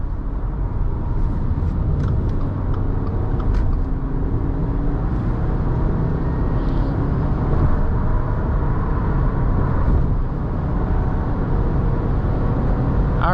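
Inside a 2021 Subaru Forester Touring on the highway, the engine's steady drone blends with road and wind roar while accelerating, holding a loud, continuous hum with no voices.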